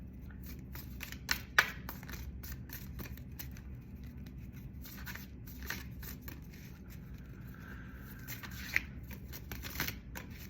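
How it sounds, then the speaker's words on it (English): Tarot cards being shuffled by hand, faint papery riffles and soft slaps with a few sharper clicks, quiet and close, with no talking. "let me keep going for just one more card in this shuffle."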